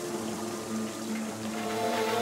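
A steady rush of flowing water as a character slides down a water slide in The Rogue Prince of Persia, continuous and even, with no voices.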